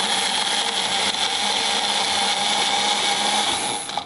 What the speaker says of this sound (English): Now for the magic bullet.